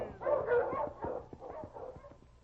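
Husky sled dogs bark and yip in a rapid series of short, fairly close calls, some overlapping, urged on in the Yukon snow with no talk heard over them.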